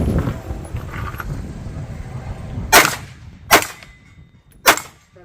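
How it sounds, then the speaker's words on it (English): Three sharp pistol shots from a CZ P10 F firing brass ammunition at distant targets outdoors, spaced roughly a second apart, each loud crack with a quick decay over a low rumble of background noise. "Trying to shoot out at these farther targets."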